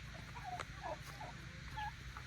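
A turkey on a farm gives soft clucking, gobbling calls, a few brief warbling notes at low volume over a steady background hum, with no talk.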